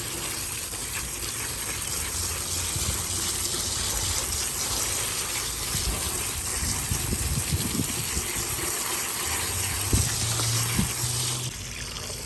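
Steady rushing spray of water washing crawfish runs nonstop, a broad hiss with faint knocks and splashes underneath, close by.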